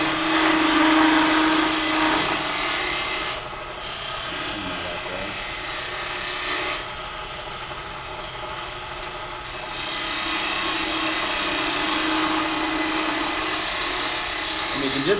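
A gouge cutting a cove in a spindle on a wood lathe, a steady loud scraping rasp over the motor's hum, easing off briefly twice as the tool shifts, then resuming.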